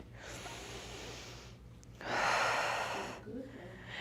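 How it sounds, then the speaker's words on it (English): A group catching its breath after a full set of exercises in a fitness class: two long, audible inhale-exhale breaths with a brief pause between, heard close over a low background hum. "Let's take a couple of deep breaths."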